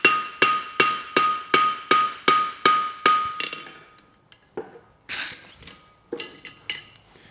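A steel horseshoe from straight bar stock is flattened on the hoof side with sharp, ringing hammer blows on an anvil. A regular series of eight strikes is followed by scattered lighter taps and a few more strikes.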